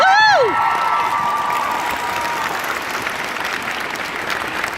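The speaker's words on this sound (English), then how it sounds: "can we give her a round of applause?" Audience applause breaks out loudly after a young girl's performance, a dense steady clapping with some cheering that stays strong across the whole stretch, a brief high voice at the very start.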